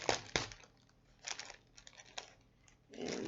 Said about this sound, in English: we are gonna allow this blade to kind of help us open this package